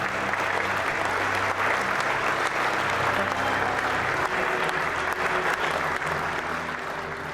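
A banquet audience at the St. Louis Sports Hall of Fame applauds Coach Richard "Itch" Jones, a loud, sustained wash of clapping filling the room throughout.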